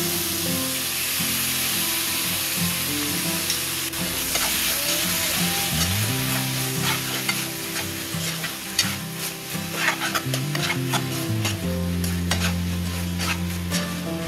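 Chicken fries in masala while it is stirred continuously, a loud steady sizzle broken by repeated scraping and clattering of a spoon against the pan.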